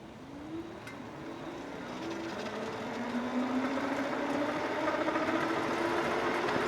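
A Fafrees F20 Mate electric trike accelerates from a standstill. Its motor whine climbs steadily in pitch and grows louder over a continuous rush of road and wind noise.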